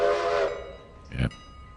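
A locomotive whistle in the train-driving video game Railroader: a steady harmonic blast with the rumble of the running train, then a shorter, rougher burst a moment later.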